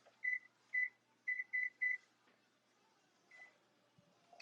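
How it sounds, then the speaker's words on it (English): A kitchen timer beeps five short times in a quick irregular run, clear and moderately close, while salmon air fries in a quiet kitchen; a fainter beep follows after a pause. "Timer."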